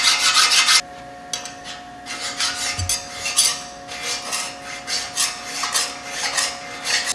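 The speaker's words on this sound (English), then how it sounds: "It's even best to use a file to final finish this part right here." A metal file finishes the welded surface of a shaved 14 bolt axle housing during a 13 bolt conversion, with repeated rasping strokes in an uneven rhythm, close and fairly loud.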